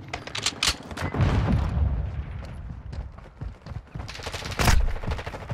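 Gunfire in Call of Duty: Modern Warfare II rattles in dense, overlapping bursts of shots and booms, loud and close, filling the whole stretch with battlefield clatter.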